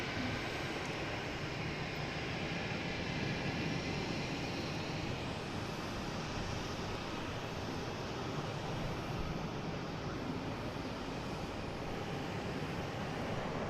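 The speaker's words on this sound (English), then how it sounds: "And we got a Southwest coming in from St. Louis. Flight 4438," Broad continuous jet roar from a Southwest Boeing 737-800 arriving at Boston Logan from St. Louis, steady and fairly distant throughout without speech.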